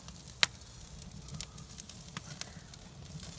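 Dry-aged beef strip loin steaks, seven of them, sear in a pan with a quiet continuous sizzle and a few faint pops and crackles, heard alone without talk.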